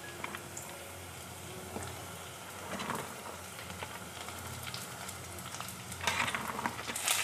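Shredded cabbage sautés with onion and chilli in a pan for Kerala-style cabbage thoran, a faint sizzle with scattered spatula scrapes that grow louder near the end, and no talking.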